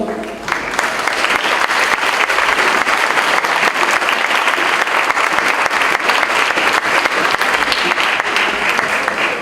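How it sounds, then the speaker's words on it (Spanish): Sustained applause from an audience welcoming a guest speaker, dense steady clapping at even loudness throughout, with no talk over it. "para quien les pido un fuerte aplauso"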